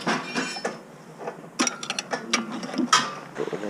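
A hand ratchet clicks in quick bursts while coilovers are adjusted on a Mk6 car, with irregular runs of sharp metallic ratcheting close by, some pauses, and no talking.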